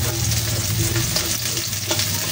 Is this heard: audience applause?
no